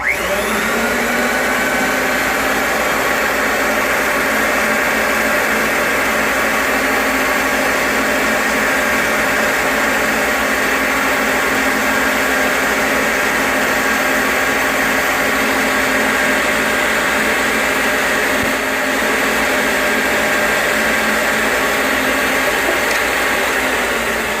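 A pipe threading machine cuts threads on a pipe with a loud, steady motor whine and grinding hum that holds nearly constant for over twenty seconds, close up and without speech.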